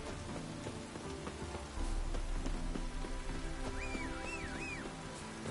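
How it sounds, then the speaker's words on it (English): Rain pattering steadily on surfaces in The Witcher 3, a dense, quiet patter with scattered droplets and a faint whistling bird-like tone near the end. "Looks like rain."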